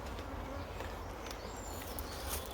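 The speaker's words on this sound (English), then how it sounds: "So there you go, plenty of bees." A dense, steady buzz of honey bees fills the air from a swarm settled in stacked spare hive boxes, heard close and continuous with no talking.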